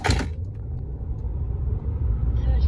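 A Ford F-150 Lightning electric truck under hard acceleration gives a steady low rumble of road and cabin noise, constant and fairly loud, with no engine note rising through it.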